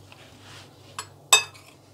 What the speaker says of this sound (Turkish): yağlanmış tepsimize dizeceğiz hepsini